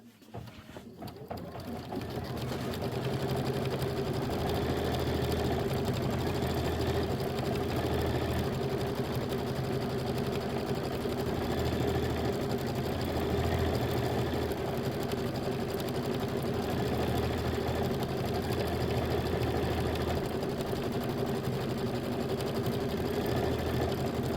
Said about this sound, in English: we have 3 minutes of stitching here